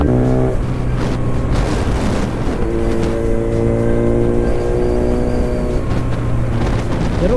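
A Kawasaki Z900 motorcycle engine revving outdoors in an open rocky area, loud and close, with rising and falling revs and a sustained throaty drone between throttle blips.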